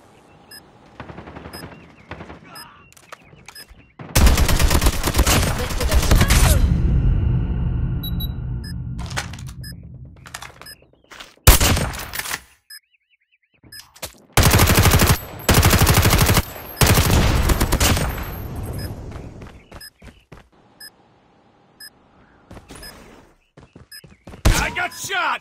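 Bursts of automatic gunfire from Call of Duty Mobile multiplayer during a bomb-site round, loud and sustained for several seconds, then broken into shorter rattling volleys between quiet gaps.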